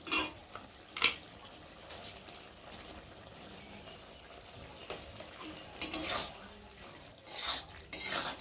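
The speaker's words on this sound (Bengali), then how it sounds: "চিনিটা দিয়েছি তো একটু ভালো করে নাড়াচাড়া করে নেবো একটু" A spoon stirs kudri (ivy gourd) and potato curry in a pan after sugar is added, giving soft scraping clatters in a few bursts over a low sizzle, close and fairly quiet.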